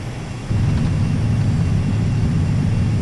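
Airliner rolling out after landing on runway 32 at Tivat Airport, a loud broad rumble of engine and wheel roar that swells abruptly after a brief quieter moment, then holds steady and heavy with no talk.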